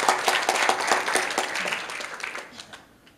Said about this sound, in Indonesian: Tepuk tangannya dahsyat